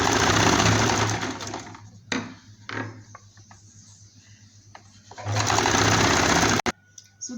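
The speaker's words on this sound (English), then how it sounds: "So as I'm sewing, I'm going to be folding it in." A sewing machine runs in steady close bursts while stitching a ruffle onto a girl's summer skirt, loud and continuous at the start, dropping to quieter stop-start clicks in the middle, then running hard again before stopping.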